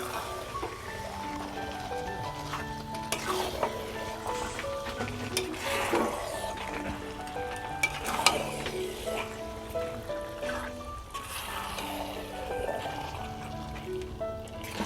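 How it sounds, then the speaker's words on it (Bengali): Marinated chicken sautéing in a pan makes a soft, steady sizzle with slow stirring sweeps, while faint background music plays and no one talks. "ম্যারিনেট করা চিকেনটা দিয়ে এবার এটা আমি ভালোভাবে কষাতে থাকবো।"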